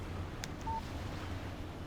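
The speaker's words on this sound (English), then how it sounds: "Text message from Barry." A short electronic beep sounds as a text message notification on a phone in the Alan Wake video game, brief and moderately loud over a low background rumble, with no talking.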